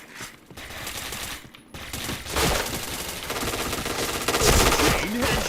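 In the online shooter Point Blank, rapid bursts of gunfire pour out in dense, overlapping volleys, loud and continuous, with brief quieter gaps early on before the shooting intensifies.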